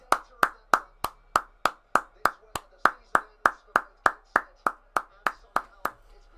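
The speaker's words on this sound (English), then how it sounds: "please give a round of applause as we welcome the two teams onto the field" A single pair of hands claps close by in a steady, evenly spaced rhythm of about twenty crisp claps as the teams walk onto the field at the FA Trophy final between Gateshead and Solihull Moors.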